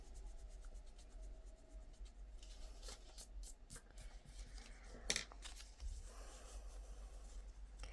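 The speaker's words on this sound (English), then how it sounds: "let me just erase this little pencil mark" An eraser rubs out a small pencil mark on a pocket page insert. Soft, scratchy back-and-forth strokes sound close and quiet, with a few sharper scuffs.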